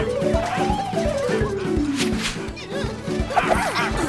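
A cartoon dog barks over lively background music, a few quick bow-wow yips rising above the score in a busy animated scene.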